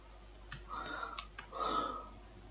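A computer keyboard gives a few soft, scattered clicks and short bursts of typing, fairly quiet over a low background hum.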